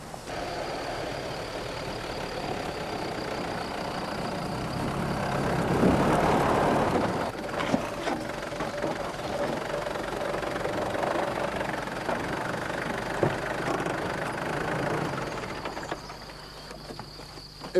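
Mitsubishi 4x4 engine labouring up an off-road slope, a steady mid-level drone that swells around the middle of the climb, with scattered knocks and clatters and no talk.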